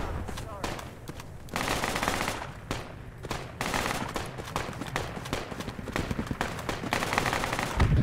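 APC gunfire in a military video game, long loud bursts of rapid automatic fire with brief pauses between them, with voices heard intermittently.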